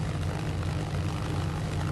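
Simulated A6M5 Zero piston engine and propeller running up in MSFS 2024, a loud, steady, meaty drone with a low throbbing rumble and broadband roar that holds constant throughout, with no talking.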